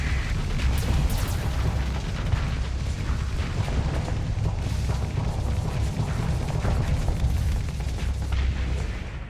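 A continuous barrage of heavy booms and crashes as a volley of torpedoes strikes an enemy ship in Starsector, dense overlapping explosions rumbling steadily for nine seconds.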